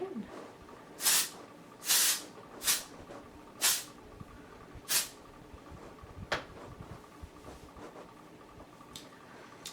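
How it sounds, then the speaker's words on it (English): Texturizing hairspray sprayed into fluffed hair in several short hissing bursts, four or five close bursts at an uneven pace with a couple of fainter sprays afterward, heard alone. "All I do is I just kind of fluff my hair and spray it in."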